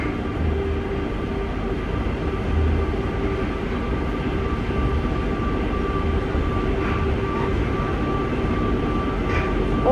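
Train air compressor running, a continuous low droning rumble with a steady hum that stays loud and unchanging throughout.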